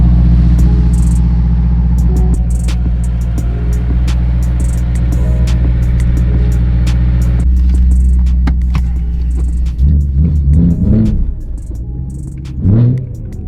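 A BMW M3 with an aftermarket exhaust idles with a loud, heavy, booming rumble, then breaks into several sharp rising and falling revs near the end, heard close and dominant.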